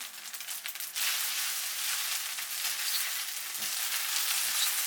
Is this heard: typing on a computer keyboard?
no